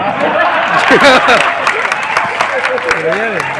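Crowd clapping at a public library inauguration in Chamari, Jalaun, sustained and fairly loud beneath someone speaking over it.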